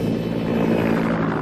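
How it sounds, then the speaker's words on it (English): A Naval Training Station helicopter passing low overhead, a steady loud droning rotor and engine rumble filling the whole brief moment. "Oh, a helicopter from the Naval Training Station."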